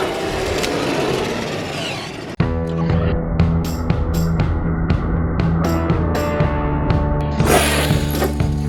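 A large Traxxas XMAXX RC monster truck bashing on its first run, opening with a rough rumble, then a sharp impact followed by a steady, whining electric motor drone with bursts of clattering.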